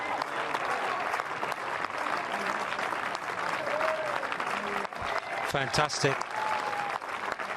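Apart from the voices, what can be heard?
applause for Reid and Hewitt at Wimbledon court 3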